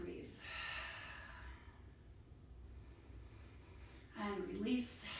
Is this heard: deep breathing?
yes